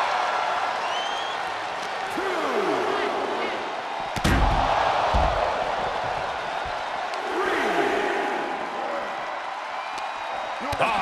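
Arena crowd in the wrestling video game WWE 2K cheering and roaring steadily throughout, with a heavy slam-like impact partway through and a commentator talking over the noise.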